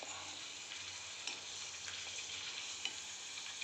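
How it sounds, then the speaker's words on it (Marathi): Chips frying in very hot oil in a home kitchen, a steady hiss and crackle of bubbling oil that runs on alone with a few faint ticks. "आपलं तेल चांगलं कडकडीत तर आपल्याला आता एक चिप्स आपण सोडून बघूया"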